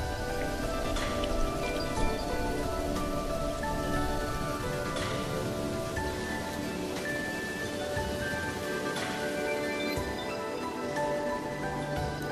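Steady, dense rain pouring down in the Mara river area, with a constant hiss and scattered heavier drops, loud and continuous, no voices.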